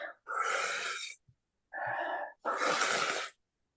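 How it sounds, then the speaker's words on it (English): Deep, forceful breaths taken during a guided functional fitness workout: three long breathy inhales and exhales, loud and close, separated by short pauses, with no talking. "Deep breathing. Remember to breathe every day."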